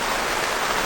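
Heavy rain from the remnants of Tropical Storm Nestor pours down steadily at a rooftop tent rally, a dense, even hiss of falling water with no voices.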